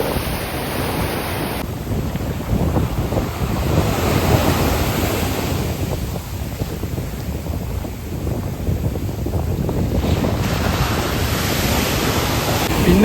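Sea waves break and wash on a pebbly beach in Oman, a loud continuous roar of surf mixed with wind buffeting the microphone, with no voices.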